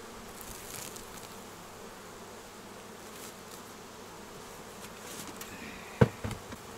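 Honey bees buzz around a hive while a swarm is being rehoused and the queen released, a soft continuous hum with individual bees droning close, plus a sudden sharp knock near the end.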